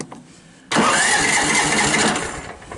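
A ride-on lawnmower engine cranks and catches after a quiet moment, then keeps running loud and close, settling into a rough, throaty idle that still needs choke.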